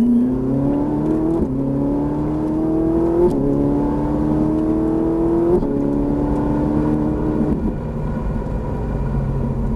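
A Ferrari F458 Italia accelerates hard on the Nogaro race circuit, its engine note climbing loud and close, dropping abruptly at each of several upshifts and climbing again in a rising, stepped pattern.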